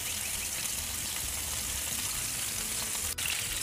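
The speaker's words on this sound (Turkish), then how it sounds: "Bakın sık sık köftelerimi çevirerek iyice kızartıyorum ki içleri de pişsin." İnegöl meatballs frying in a pan: a steady, dense sizzle of hot oil that runs throughout at moderate loudness, with one brief click near the end and no talking.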